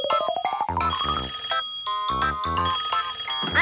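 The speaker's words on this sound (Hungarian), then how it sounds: "Mi ez a csöngés?" A cartoon telephone rings with a bright, electronic, repeating chime, loud and close, cycling through rising and stepped tonal bursts with no talking.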